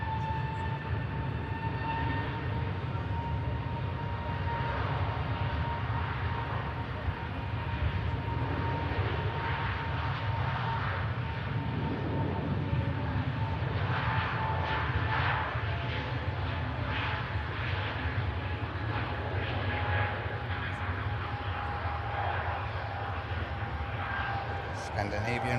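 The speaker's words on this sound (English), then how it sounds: "here's the next departure. Scandinavian Neo for Oslo" A Scandinavian Airlines Airbus A320neo departs for Oslo, its engines holding a fairly faint, steady roar with a thin whining tone running through it throughout.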